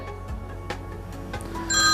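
A mobile phone rings with an incoming call, a short repeating electronic ring over a quiet room, with no talking over it.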